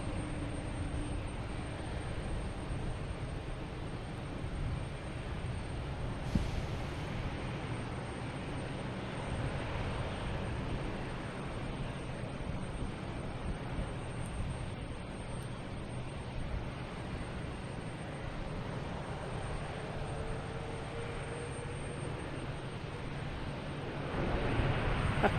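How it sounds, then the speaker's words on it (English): A Japan Airlines plane arriving from Tokyo at Boston Logan Airport gives a distant, steady jet roar mixed with wind rumble that continues throughout and swells slightly near the end. "There it is, Japan Airlines. Coming in from Tokyo."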